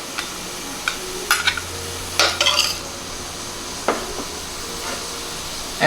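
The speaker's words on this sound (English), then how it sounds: "get a nice mix and let it all saute together" Chopped celery, garlic and parsley sautéing together in a pan: a steady low sizzle broken by several sharp scraping stirs of a utensil against the pan, close and without voices.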